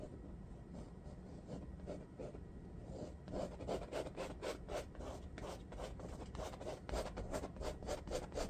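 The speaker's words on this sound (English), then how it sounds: "So let's just scrape this paint off." Excess acrylic paint being scraped off a mountain landscape painting. The scraping is steady and rasping, with rhythmic strokes that grow quicker and more distinct partway through. Close and fairly quiet, with no voices.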